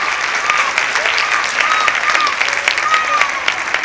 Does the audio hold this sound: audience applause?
yes